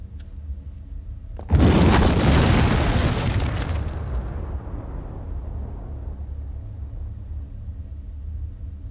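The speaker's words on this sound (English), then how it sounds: "The C4 in this device will detonate in 5 seconds." C4 detonates in the video game Tiberian Sun. A sudden loud explosion bursts after a moment of low ambience, then rumbles and slowly decays into a lingering low roar.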